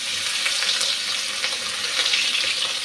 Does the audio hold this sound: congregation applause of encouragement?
no